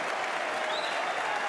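Crowd at the 2024 Masters snooker quarter-final between Ronnie O'Sullivan and Barry Hawkins bursting into steady, dense applause after a superb red, loud and sustained, with no speech over it.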